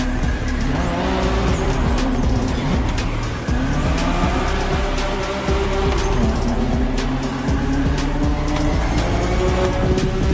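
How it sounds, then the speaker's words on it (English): A car drifting in The Crew Motorfest, its engine roaring loud and close while tires squeal in long sliding wails that rise and fall through the whole stretch. "Don't you forget, it's all about drifting."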